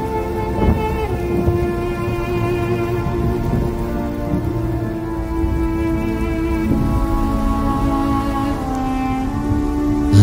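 A rain sound effect at a colossal dance performance during an MTQ national opening ceremony in Indonesia, loud steady downpour with thunder rumbles, layered over sustained tonal music, no talk.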